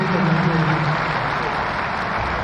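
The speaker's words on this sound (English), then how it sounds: "We can keep that applause going" Steady applause from an audience at a Southeast Development Commission Vision 2050 event in Enugu, a dense continuous wash of clapping at even loudness with a voice briefly over the start.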